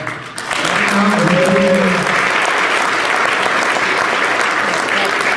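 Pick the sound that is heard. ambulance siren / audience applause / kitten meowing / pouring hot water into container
audience applause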